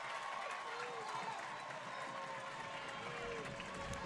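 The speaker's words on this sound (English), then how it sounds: "And this gets the crowd loud." A softball crowd at a Michigan versus Ohio State game makes a steady roar of cheering and clapping, with faint whistle-like tones running through it and an announcer talking over it.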